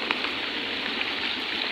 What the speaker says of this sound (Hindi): बारिश तो काफ़ी ज़्यादा आ रही है